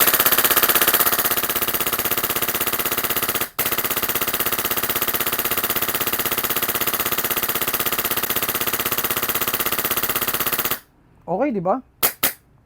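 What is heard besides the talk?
HPA airsoft gun firing full auto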